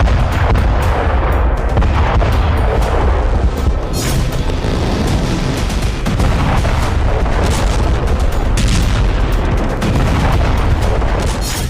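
Storm Shadow missile strikes hitting targets in Russia, heavy booming blasts and rumbling detonations rolling over each other continuously, loud and dense, with no talking.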